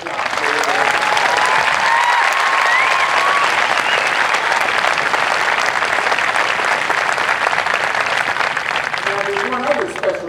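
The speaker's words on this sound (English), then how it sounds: "let me give you one more round of applause to my MTI Corps for the job they're doing" A large crowd at an Air Force basic military training graduation parade applauds the MTI Corps, loud sustained clapping and cheering throughout, with a voice heard briefly.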